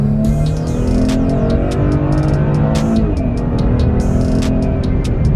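A 2015 Mercedes-Benz ML350's V6 engine hums steadily while driving, its pitch rising and shifting through gears, heard from inside the cabin, loud and continuous with no talking.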